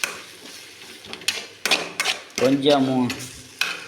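Egg frying and being stirred in a pan in a home kitchen, with clattering stirs and scraping bursts over a soft sizzle, close by, and a brief word spoken partway through.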